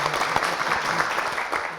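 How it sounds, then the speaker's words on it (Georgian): A brief burst of steady audience clapping greets school quiz finalists, a dense even patter of many hands lasting under two seconds. "აპლოდისმენტები მათ"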